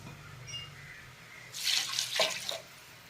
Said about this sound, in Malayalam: ഇനി നമുക്കതിലേക്ക് വെള്ളം ഒഴിക്കാം